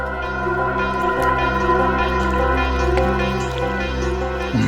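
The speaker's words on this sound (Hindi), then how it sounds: "पानी की आवाज आ रही है सर।" Water trickles and drips continuously behind a steady electronic hum, heard as if over a phone line, loud and unbroken throughout with no voices.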